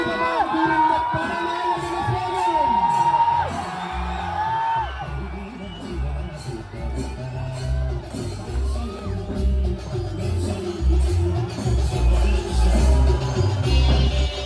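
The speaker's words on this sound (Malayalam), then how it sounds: "ഈ ആരവം കേൾക്കുക കാതുകളെ" A large crowd roars at an elephant procession during the Thirunakkara temple daytime festival (pakal pooram). Whistles and shouts rise over a dense, loud, continuous din that holds steady throughout.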